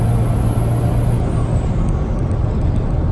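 A Cummins-swapped tow truck runs a full-throttle pull at about 50 mph under heavy boost, giving a loud, steady, continuous engine roar with a dense low rumble and a faint high turbo whistle, and no talk.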